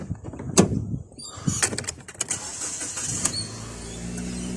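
A Hyundai i30 engine cranks and catches nearby, with clicks and a door-like clunk around it, then settles into a steady idle. No voices are heard.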